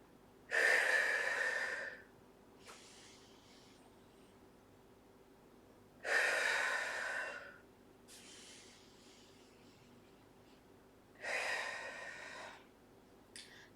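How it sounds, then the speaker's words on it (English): Energetic breathing drills in a chair yoga class: three strong breath cycles, each a loud rush of air drawn in through the nose followed by a forceful exhale through the mouth, with quiet gaps between and no talk. "we're breathing up for 5 counts through the nose, exhale through the mouth, 2 counts"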